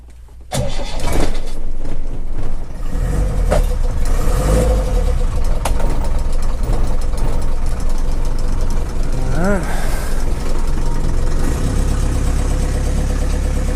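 A Land Rover 109 diesel engine on a very cold day cranks and catches after about a second, then settles into a loud, close, rough idle with knocking clatter that runs steadily to the end, with a brief squeal and some voices partway through.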